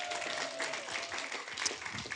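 A city council meeting audience breaks into applause, with a dense, steady burst of many hands clapping that carries through the short moment.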